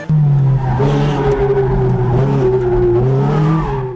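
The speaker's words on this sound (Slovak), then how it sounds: "V zákrutách sa nám prihovárajú už aj pneumatiky." An Italian sports car at speed squeals its tires through corners; loud, close, wavering tonal screeches ride over a strong engine drone for several seconds, fading slightly at the end.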